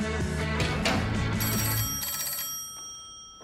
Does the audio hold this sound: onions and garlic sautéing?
no